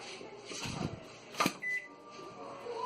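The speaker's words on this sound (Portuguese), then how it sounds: "Tá aí pra vocês o micro-ondas pegando, ligadinho, funcionando perfeito" Electrolux microwave oven running after being repaired following a 220V connection to its 127V supply, giving a low steady hum with a sharp click and a short beep along the way.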